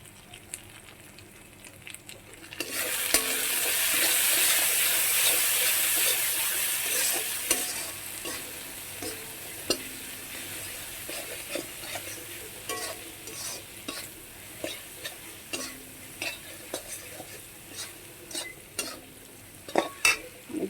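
Small fish frying in a pan over a low gas flame with salt and turmeric, a steady close sizzle that rises and fades, then repeated scraping and clinking as the fish are stirred.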